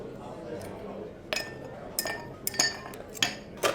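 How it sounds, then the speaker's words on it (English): Ice dropping into a cocktail glass at a fine-dining bar in Mumbai, a series of bright separate clinks and clatters against glass, fairly close, over a quiet room hum. "I'll add some ice."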